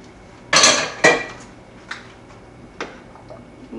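Onion goes into melted butter in a pan, marked by two sharp metallic clanks of a spoon against the pan, then a few lighter, sparser taps over a low, quiet background.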